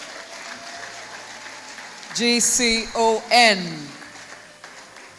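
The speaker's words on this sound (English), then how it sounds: "Ladies and gentlemen, receive him with an applause." Audience applause at a birthday lecture, a steady crowd clapping throughout while a loud amplified voice announces over it in the middle, with the clapping continuing underneath.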